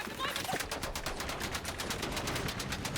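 Rapid bursts of automatic gunfire in Battlefield 6 multiplayer rattle continuously in a fast, even rhythm, loud and close, with a brief whistling sound near the start.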